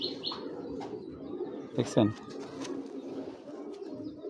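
A pigeon gives a brief, low coo while someone talks close by, amid faint chirps and handling noise.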